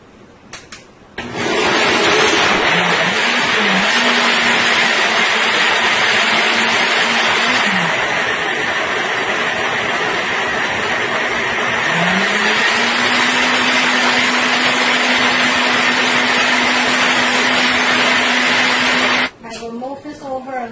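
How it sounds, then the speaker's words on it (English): A blender whirs loudly as it blends coconut pieces with water in a pitcher, starting abruptly, holding a steady drone with pitch shifts as the load changes, then cutting off near the end. "Now I will go ahead and start blending this."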